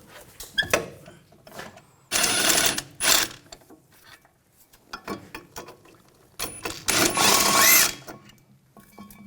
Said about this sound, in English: Now we'll take the brake caliper bracket bolts out. Use a 16mm socket. Loosen these bolts up, take these out.